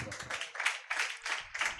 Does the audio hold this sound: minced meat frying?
no